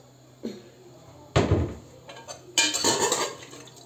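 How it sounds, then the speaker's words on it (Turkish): Boiled bone-in meat being tipped into hot oil in a cooking pot, heard as a few clattering knocks of meat and metal, one soft then two loud bumps with a brief sizzle-like hiss, close by. "Isınan yağımın içerisine şöyle haşlamış olduğum kemikli etimi içerisine"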